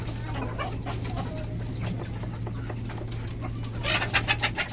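Backyard chickens cluck and murmur nearby as they get their midday feed, soft overlapping fowl calls over a steady low hum, growing a little louder and busier toward the end.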